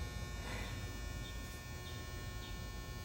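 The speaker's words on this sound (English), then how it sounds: "that's just the loudest dryer in creation" A loud household clothes dryer runs steadily in the background, a constant droning hum with faint rattling and no breaks.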